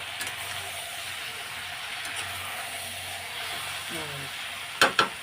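Spices for a shrimp and jackfruit curry sizzle steadily as they are sautéed in a pan, with a soft stirring scrape partway through and two sharp utensil clinks near the end.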